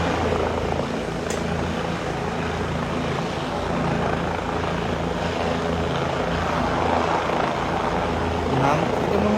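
A helicopter lands on and lifts off a rooftop in Badda, Dhaka, its steady, loud rotor drone running continuously throughout while people talk nearby.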